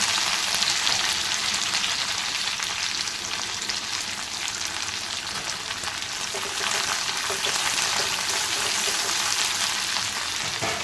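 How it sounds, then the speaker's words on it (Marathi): Steady, loud sizzling of coriander leaves and garlic frying in hot oil for a tempering, a dense crackling hiss that continues throughout with no talking. "आणि मी या फोडणीमध्येच कोथिंबीर टाकते."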